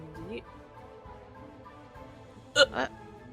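A voice imitates hiccups during a tabletop role-playing game session: two quick, sharp hic sounds close together near the end, after a quiet stretch.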